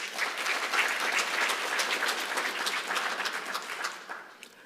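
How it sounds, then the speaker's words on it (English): An engineering conference audience applauds a government minister with sustained, moderately loud clapping that holds steady and then tapers off toward the end. "A round of applause for him, please."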